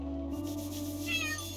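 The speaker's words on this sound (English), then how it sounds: "And a kitty." A cat meows once in the video game Chained Echoes, a short clear call over a steady game soundtrack of low drones and soft ambient tones.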